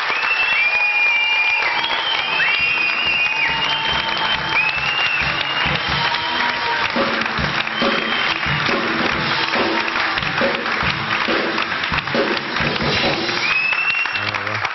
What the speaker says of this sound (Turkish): Alkışlarınızla Enes Erkan geliyor.